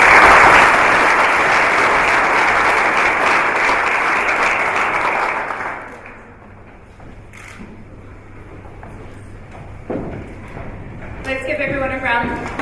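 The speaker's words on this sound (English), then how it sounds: "Let's give everyone a round of applause." Loud, sustained applause from an awards-ceremony audience fills the room, then thins out and fades about halfway, leaving quieter room murmur and a few scattered claps.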